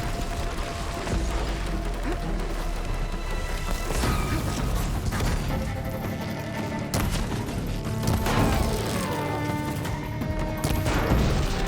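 Gunfire and crashing impacts from the video game Horizon Forbidden West, with repeated loud bursts and thuds layered over dense, continuous game sound throughout.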